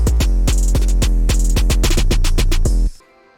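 Hip-hop beat with deep booming 808 bass and rapid snare rolls over crisp drum hits, loud and punchy in a steady driving pattern, stopping abruptly near the end.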